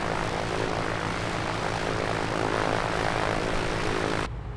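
An Aerostar 600 twin-engine propeller plane idles near 1000 RPM in a flight simulator, a steady loud droning engine hum with a low throbbing pulse that suddenly cuts down at the very end.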